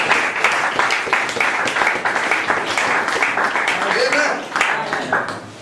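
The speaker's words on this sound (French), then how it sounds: "Let's put our hands together." A church congregation applauds during a bilingual worship service, loud and close, with dense clapping overlapping people talking and calling out.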